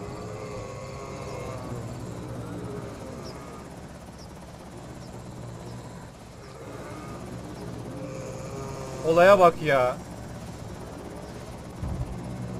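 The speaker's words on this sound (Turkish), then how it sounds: "Evin üzerinde şu an helikopter galiba." Helicopter in the video game Project Zomboid flies over a house, a steady droning rotor hum throughout with brief louder chirping sounds near the end and someone speaking briefly.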